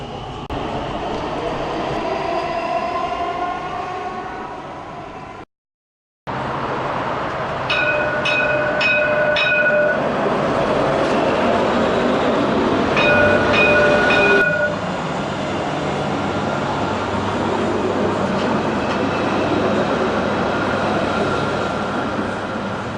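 A Dubai Metro train runs between stations with a steady rumbling roar and rail noise. A pair of clear electronic chime sequences sounds partway through, and there is a brief dropout early on.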